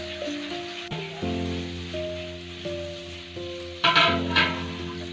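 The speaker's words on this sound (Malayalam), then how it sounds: "ചട്ടി അടുപ്പത്ത് വെച്ച് എണ്ണ ഇട്ടിട്ടുണ്ട്. നന്നായി ചൂട് വന്നിട്ടുണ്ട്. അതിലേക്ക് നമ്മൾ നേരത്തെ അരിഞ്ഞിട്ടുള്ള ഉള്ളി ഇട്ട് കൊടുക്കുക." Chopped onions hit hot oil in a pan and sizzle steadily for several seconds, a close, continuous frying hiss with a louder burst near the end as they are stirred.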